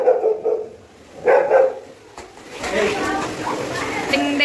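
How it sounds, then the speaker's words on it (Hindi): A pet dog barks indoors in a few sharp bursts, loud and close, with excited talking over and between the barks. "देखो गाइस इसलिए सैगी भौंक रहा है।"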